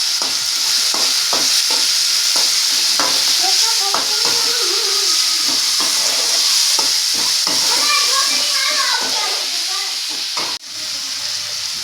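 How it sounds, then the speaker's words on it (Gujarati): Potato masala with garam masala and turmeric sizzles loudly in a pan for masala dosa filling, a steady hiss broken by repeated scraping stirs, with a voice speaking over it. "ગરમ મસાલા સાથે બટેટાનો મસાલો બની રહ્યો છે"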